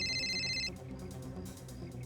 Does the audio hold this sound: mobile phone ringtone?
yes